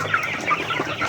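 Farm chickens clucking and squawking restlessly as they jump about, several overlapping close calls in a lively, uneven chatter with no voices.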